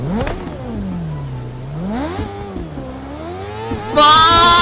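Revving of a Ford Mustang GT500 built into an H2R in The Crew Motorfest, held in neutral. Loud, close engine pitch climbs and falls in several sweeps, then jumps to a harsh high roar at the end.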